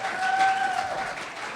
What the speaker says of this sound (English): You clapped too soon.